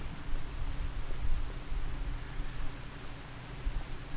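Steady rain falls over a grassy yard, a dense continuous hiss with soft pattering, fairly even in loudness throughout with no voices.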